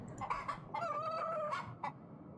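A chicken in the video game Yes, Your Grace gives a series of clucks and a short drawn-out crowing call, fairly close and alone.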